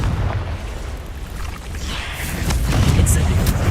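Confringo spell explosion in the video game Hogwarts Legacy, a loud rumbling blast that swells into a sustained low roar, up close with no talk.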